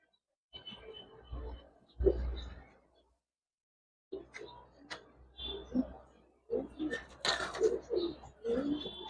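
Giribaz pigeons with showy colouring coo softly at a pigeon farm, in faint, broken bursts with gaps of quiet between them.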